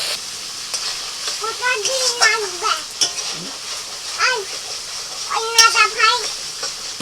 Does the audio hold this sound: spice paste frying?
yes